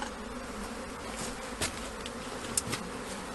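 Honey bees hum steadily around a split hive colony, with a few louder buzzes as individual bees fly close past, and no voices.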